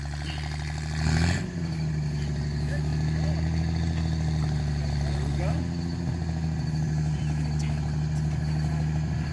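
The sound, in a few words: truck engine running as it moves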